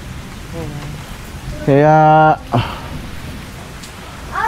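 Steady rain hisses across a zipline area in Hindang, Leyte, a constant soft wash in the background. Voices talk over it, and a loud brief tonal burst cuts through midway.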